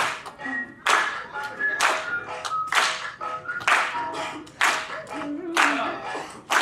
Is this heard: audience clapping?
yes